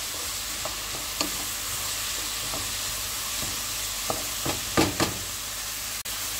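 Corn soup being stirred in a pot over a steady bed of sizzling, with a few soft scrapes and knocks of the spoon against the pot, close and fairly loud, no voices.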